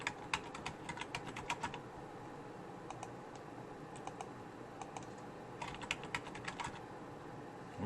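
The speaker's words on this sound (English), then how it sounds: "Boy, I'm having a little trouble typing today." Quiet bursts of typing on a computer keyboard, quick clusters of soft key clicks separated by short pauses, close by with no talk.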